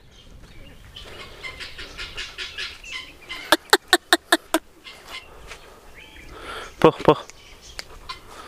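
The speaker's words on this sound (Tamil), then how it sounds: "கிண்ணிக்கோழி கத்துச்சுன்னா கம்பல்சரியாக வந்து பார்ப்பேன்" Guineafowl on a rural Tamil Nadu poultry setting give sharp, rapid repeated calls in two loud bursts, a quick run of five or so harsh notes then another cluster later, with someone talking briefly and faint background sounds between.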